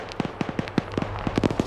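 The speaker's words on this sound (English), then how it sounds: "Flashbangs." Flashbang grenades go off in a military video game set in Afghanistan, a rapid string of sharp, crackling bangs packed closely together like firecrackers over a brief burst.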